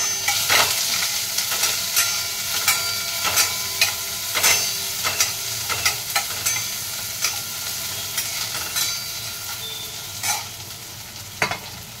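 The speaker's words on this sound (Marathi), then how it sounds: "त्यामध्ये लसूण टाकल्यानंतर कांदा लाल होईपर्यंत परतून घ्या." Onion and garlic sautéing in a pan, a steady broad sizzle with repeated scraping stirs every second or so, close and fairly loud with no talking.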